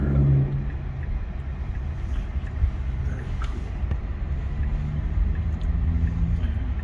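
Tesla Model 3 dual motor car on the road, a steady low rumble of tire and road noise heard from inside the cabin, continuous and moderately loud, with no talk.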